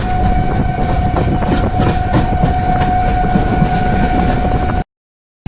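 The 12278 Puri–Howrah Shatabdi Express rumbles loudly along the tracks near Jajpur Keonjhar Road with a steady roar, faint rhythmic clacking and a constant tonal hum, then cuts off abruptly.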